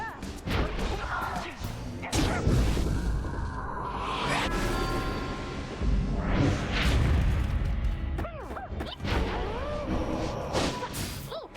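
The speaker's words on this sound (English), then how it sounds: "how do you cancel out of his bomb explosion?" Tizo's bomb explodes in the video game Pyre, with heavy thuds and booms mixed with whooshing swishes and crashing bursts across a busy, continuous game soundscape.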